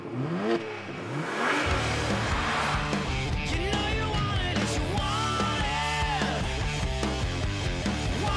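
A BMW 2 Series Coupe engine revs in an advert, a loud, steady mid-pitched roar that rises and falls with accelerating pulls, backed by music.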